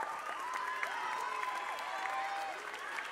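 Audience applause at an ice gala in Covo, a moderate wash of clapping from the crowd heard at some distance, steady throughout with music-like tones ringing over it.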